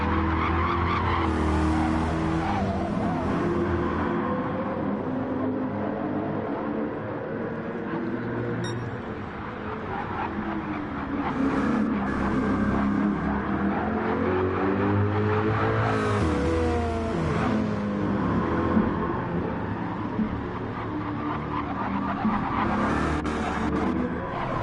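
Gran Turismo 7 race cars, a Corvette and a Subaru BRZ among them, battle through a Gr.3 online race at a Spanish circuit, with engines revving up and down and tires squealing repeatedly through corners, steady and close throughout.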